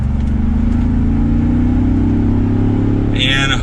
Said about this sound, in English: let's give it a little bit of gas.